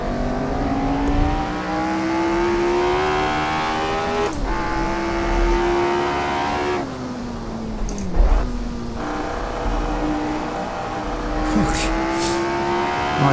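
Lotus 25 vintage Formula One car lapping Brands Hatch in a racing sim, its engine droning steadily with rising and falling revs, sharp downshift dips and brief tyre squeal, loud and continuous throughout.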